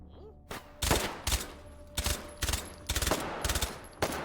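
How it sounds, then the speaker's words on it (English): Suppressed gunfire in the VR shooter H3VR, a series of muffled bursts and single shots in quick groups, fairly close and punchy with short gaps between volleys, no talking. "Not as funny with the suppressor on from an audio standpoint."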